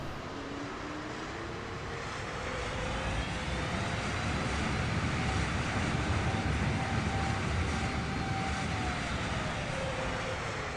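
An Airbus A32NX jet touching down in a flight simulator: a steady, loud roar of engines and rushing air with faint tonal whines gliding across, building slightly and holding without talk.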